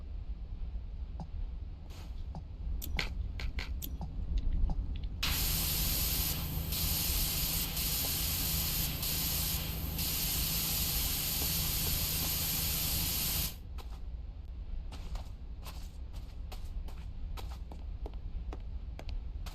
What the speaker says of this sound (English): get the extra long extension, and just spray the hell out of it until we get it